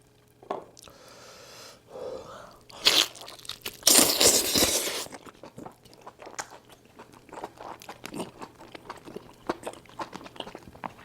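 Someone chews well-boiled food up close, with moist smacking and intermittent crunchy bites, including a louder burst of chomping midway, then quieter, irregular mouth sounds.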